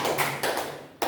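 A classroom breaks into brief applause for a student, loud and close, in three short bursts of clapping and tapping with a pause before the last.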